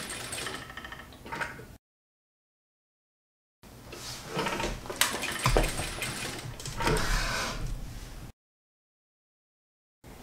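A sewing machine stitches the neckline of a lace party dress, running in two bursts of steady motor whirr and needle chatter separated by silence, with the presser foot lifted and lowered between passes.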